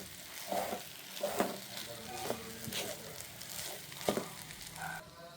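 Spoon stirring rice into tamarind puliyogare paste in a pan, a run of soft scraping strokes and light sizzle with periodic clinks against the metal, close and steady, no voices.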